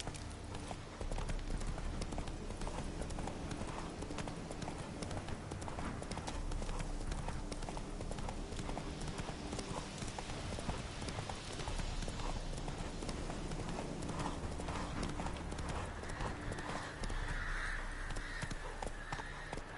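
Horse hooves galloping in The Witcher 3 on PS4, a fast continuous clip-clop rhythm held for the whole stretch, with faint crow calls and ambient game sounds in the background.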